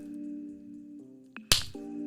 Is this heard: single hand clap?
yes